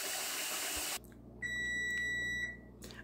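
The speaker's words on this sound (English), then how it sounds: "the timer's going off" A kitchen timer, set while baking sausage balls and cloud bread, rings out with one sustained high electronic beep lasting about a second, close and clear over a quiet room hum, with no talking.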